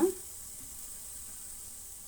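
Gulab jamun deep frying slowly in oil gives a faint, steady sizzling hiss, with a brief soft knock at the start.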